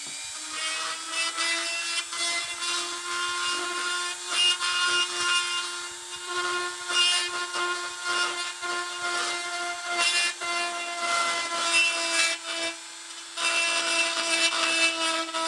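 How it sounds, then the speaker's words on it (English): A Dremel rotary tool grinds down a plastic game piece from a car race game, its steady high whine pulsing as the bit bites and eases, close and loud with no talk. "I could pull out my Dremel and try to grind it down"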